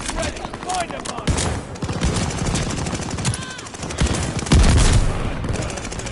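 Combat in Call of Duty Vanguard with a mortar barrage, dense rapid gunfire and heavy booming impacts overlapping continuously, loud and close, with a voice talking over the action.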